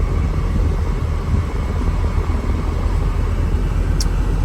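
Steady broadband rush of air from the high-speed AC fan in a 1989 BMW 325i, a constant whooshing blow filling the cabin with a low rumble beneath and one brief faint click near the end, no voices.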